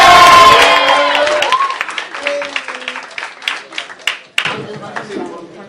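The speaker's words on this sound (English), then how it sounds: "How about a big round of applause for Rasheed Ivory?" Stand-up comedy audience at the Times Square Arts Center breaks into applause and cheers for a comedian, loud at first and then thinning into scattered claps under a host's voice.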